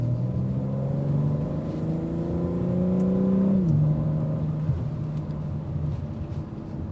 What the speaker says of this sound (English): It's definitely a symphony to my ear, that exhaust note that filters in.